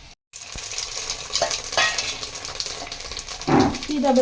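Whole spices for biryani, including bay leaf, stone flower, star anise, poppy seeds, cloves and fennel, crackle in hot oil with a continuous sizzle and a few spoon scrapes and knocks against the pan.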